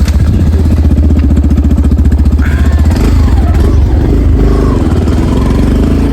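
A motorcycle engine on a ride along the Kumbharli Ghat road throbs loud and close with a steady rapid pulse, its pitch shifting as the bike changes speed.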